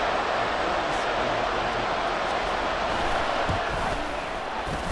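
Stadium crowd noise in the Madden NFL 24 video game during a Buccaneers vs. Cowboys Sunday night matchup: a dense, steady roar of massed voices fills the whole stretch, loud and continuous, with faint commentary mixed in.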